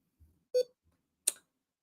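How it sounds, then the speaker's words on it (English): Two short, faint electronic beeps from a device with a disconnected battery sound a moment apart in an otherwise quiet room. "why am I beeping?"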